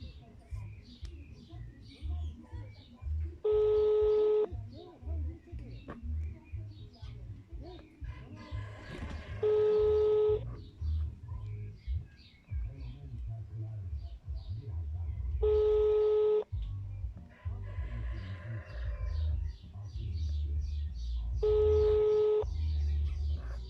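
Telephone tones sound while a call is being placed: four evenly spaced beeping bursts about six seconds apart over a murmuring background with faint voices.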